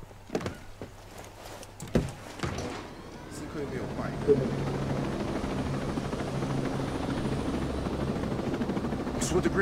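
Helicopter in the video game Ghost Recon Breakpoint, its rotor building into a steady, loud whirring drone after a few early clunks and thuds, with voices speaking over it.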